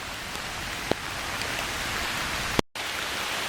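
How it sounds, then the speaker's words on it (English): Steady rain pours over garden earthworks on a property, a dense, even hiss of drops on soil and plants, close and continuous, broken by a couple of sharp knocks and a brief dropout. "There's lots of rain coming."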